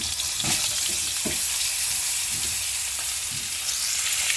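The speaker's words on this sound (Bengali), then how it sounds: "এবার আমি ওই তেলেই আস্তে আস্তে এই আলুগুলো ভালো করে ভেজে নেব" Potato pieces fry in the same oil left after frying fish heads for a cabbage dish, a steady broadband sizzle with a few soft stirring scrapes, close and continuous with no talk.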